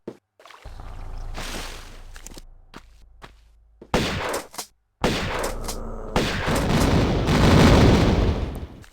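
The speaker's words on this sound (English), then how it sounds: "I think we might do a shotgun this time" Shotgun blasts in Tomb Raider (1996), Obelisk of Khamoon level in the Croft Engine: several loud, sharp booming shots at uneven intervals, separated by brief quiet gaps, with footstep-like noises and ambient game sound between them.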